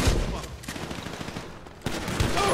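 Gunfire in the GTA 5 video game, a busy run of loud shots and bursts that carries on steadily through the clip, with a sharp jump in level near the end.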